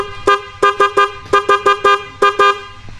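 Loud, short car horn toots sound in rapid succession, about a dozen beeps in uneven pairs and runs with brief gaps between.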